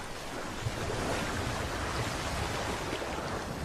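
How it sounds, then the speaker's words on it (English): Water crashing and splashing as a herd of buffalo retreats into it, a steady broad rush of surf-like noise with wind, continuous and fairly loud for a few seconds with no voices. "The crash of water as the buffalo retreat takes on a new significance to her."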